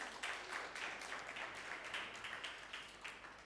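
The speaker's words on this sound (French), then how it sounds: "Merci, on peut l'applaudir." Faint applause from a lecture audience, a steady patter of many hands clapping for a few seconds.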